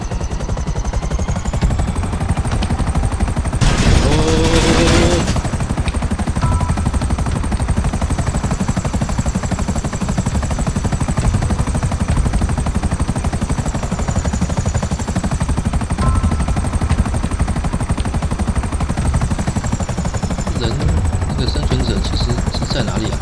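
A helicopter in the video game GTA5, taking off during a zombie-outbreak mod mission: a steady, loud rotor and engine drone that runs the whole time, with a brief burst of mechanical noise early on.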